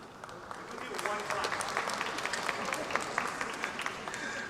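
Audience applause at a Vietnamese American community anniversary gathering, a moderate, slightly distant patter of many hands that swells after the first second and holds steady, with faint voices mixed in.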